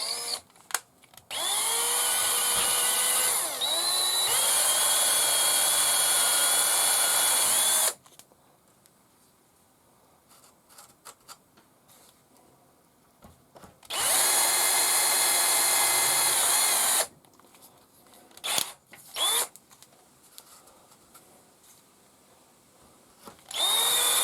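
A power drill with a 3.5 bit bores through a steam engine diorama base to clear bolt threads, making two loud sustained whining bursts of several seconds each, separated by a quiet gap and short clicks.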